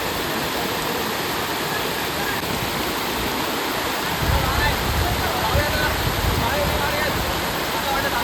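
A hidden waterfall roars in a constant, broad rush of falling water that grows heavier and fuller partway through, with no voices over it.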